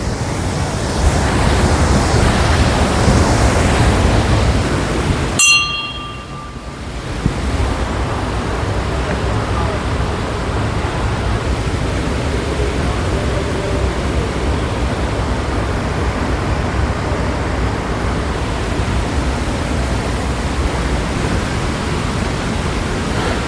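Rushing water at Bogatha Waterfall in Mulugu, Telangana, a loud continuous broadband roar from close by, with a brief dip and a sharp click near the start before the steady torrent resumes.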